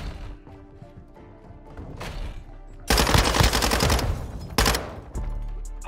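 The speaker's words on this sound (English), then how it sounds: "Taking effective fire." Gunfire in the video game Call of Duty MW2: quieter distant shots at first, then loud close bursts of rapid automatic fire with short breaks between them.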